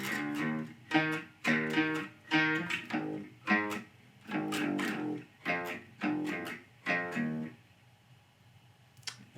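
Bass guitar playing the first verse of a song: a run of distinct plucked notes in steady rhythmic groups, close and clear, fading to a quiet tail at the end.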